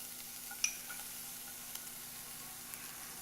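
Shallots sizzle quietly in a hot pan, a faint steady hiss broken by a few small pops.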